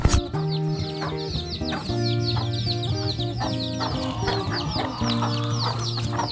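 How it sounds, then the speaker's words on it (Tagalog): Backyard chickens cluck steadily and busily while being fed, with a rooster-like call, birdsong, and other farmyard sounds mixed into a dense, continuous din. "Papakain muna tayo ng ating mga manok."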